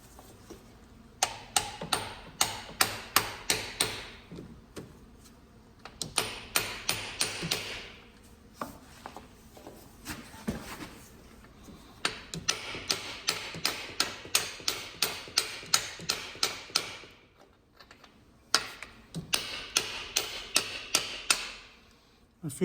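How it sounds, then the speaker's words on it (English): A mechanic's hammer strikes a car's block heater in rapid clusters of sharp metallic taps. The bursts come in uneven runs, with brief pauses between them. "And I'm just going to take my mechanic's hammer."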